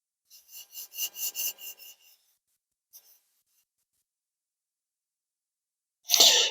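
A wood and resin pendant rubbed on 600-grit sandpaper gives a run of about eight quick, rhythmic scratchy strokes, then a lone faint scrape, silence, and a sudden louder burst of rustling handling noise at the end.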